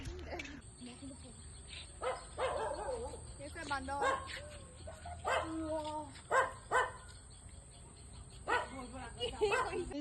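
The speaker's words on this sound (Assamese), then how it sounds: "কুকুৰটো ইমান ভুকি আছে" A dog barks repeatedly in short, irregular bursts with a few whiny yips, fairly close, over a faint steady background hum.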